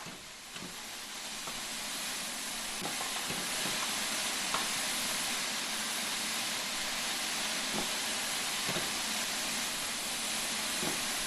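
A steam locomotive in the game Train Sim World 5 gives off a steady, soft hiss of steam with faint clanks and ticks underneath, and no voices.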